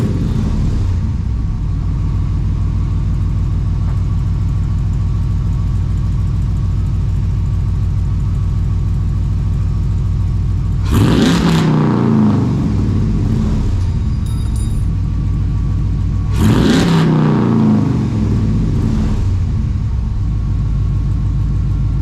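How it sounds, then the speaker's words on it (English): A Dodge Dakota pickup sits idling after a cold start with a steady low exhaust rumble, broken by two short, loud revs roughly five seconds apart, each falling back to idle. "let me go ahead and give you a little cold start"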